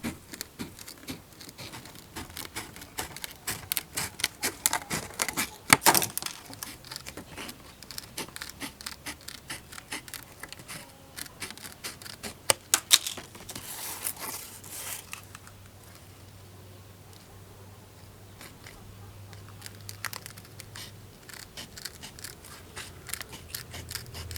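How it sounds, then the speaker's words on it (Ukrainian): Metal shears snip strips of plastic along a molded rim, giving a run of close, crisp cutting clicks and crunches, denser early and then thinning to sparse snips over a low hum. "Далі ножицями прямо по цьому буртику вирізаємо смужки пластику."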